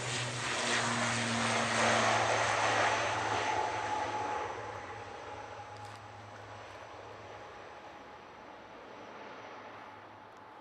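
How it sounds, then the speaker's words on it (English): An Aer Lingus airliner takes off for Dublin from Manchester Airport, its jet roar loud and steady at first, then fading gradually as it climbs away into the distance. "Right now though, Aer Lingus"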